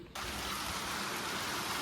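Heavy rain pours down in Italy with drainpipes running, a thick, constant wash of noise that starts abruptly and holds steady throughout.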